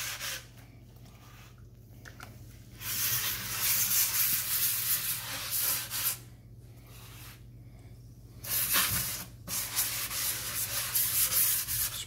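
Gritty scrubbing and rubbing strokes of baking soda paste on a sink come in bursts with brief pauses between, a close, rough scraping against a hard surface.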